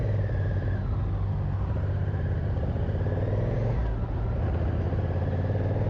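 Honda NT1100 motorcycle engine running steadily while riding, a continuous low rumble with wind noise throughout and a slight rise in pitch as it accelerates near the end.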